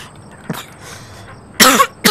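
A man coughs and clears his throat while recording commentary on a computer game: a faint short cough first, then two louder, harsh bursts close to the microphone, with no talking.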